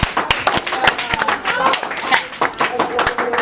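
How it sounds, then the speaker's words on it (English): A classroom of students claps briefly for a classmate, a burst of sharp, uneven claps close by, with a teacher's voice speaking over them. "Chalice, round of applause."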